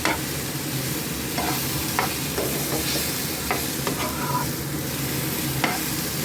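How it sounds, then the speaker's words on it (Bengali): Potatoes and green papaya sauté in oil in a pan for a Bengali dalna, giving a continuous close sizzle with scattered scraping and clinking as the pieces are stirred. "ভালো করে সাঁতলানো হয়ে গেছে, পেঁপে আলুগুলো নরম হয়ে এসেছে।"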